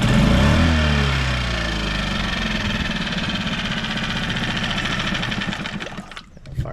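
An outboard motor idles smoothly after an air mixture screw adjustment on its carburetor, with a steady, loud, close engine rumble that holds evenly before dipping slightly at the end.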